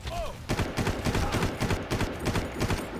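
Rapid bursts of gunfire in Far Cry 5, loud and close, with shots fired in quick repeated volleys and barely a pause between them.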